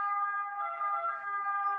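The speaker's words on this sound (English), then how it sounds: "Sorry for the sirens outside." Emergency vehicle sirens wail outside, heard from indoors as a steady tonal siren rising and falling slightly, moderately loud and continuous with no other sound over it.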